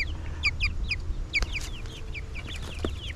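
Several broiler chickens in a movable chicken tractor cluck and chirp in short bursts close by, with a steady low background hum and no talking.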